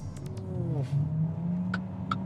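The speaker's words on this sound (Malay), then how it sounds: "Korang boleh dengar bunyi enjin dia tu." Proton plug-in hybrid car engine rising in pitch as it accelerates, a steady close drone inside the cabin, with a few faint clicks and ticks over it.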